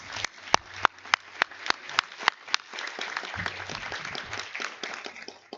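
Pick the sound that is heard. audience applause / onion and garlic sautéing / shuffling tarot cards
audience applause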